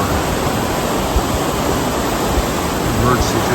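The Zeta River in Montenegro flows past beside old Roman ruins, a steady, broad rush of water, close and continuous.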